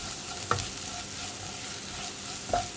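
Spice powders are stirred in a pan while pepper chicken cooks, giving a soft, steady sizzle with two brief scrapes of the spoon against the pan.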